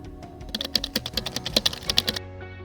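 Rapid typing on a computer keyboard, a quick close run of crisp key clicks with irregular rhythm, entering a username and password, with no voices.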